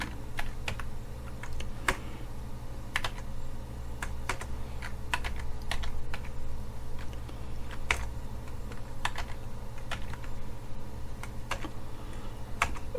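Typing on a computer keyboard while working with a SIM800 GSM module, a steady stream of close, crisp key clicks in irregular rhythm, with a low hum underneath throughout.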